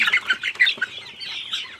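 Several chickens cluck and chatter close by in quick, overlapping bursts that settle into softer, thinner calls.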